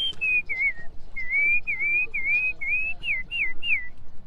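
A man whistles an imitation of a bird call: about nine short, bright, chirping notes in a quick, steady run, close and clear.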